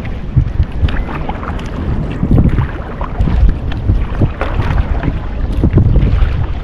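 Steady wind buffets the microphone over the rumble of a fiberglass boat moving slowly into a headwind, with splashing and choppy hull noise throughout.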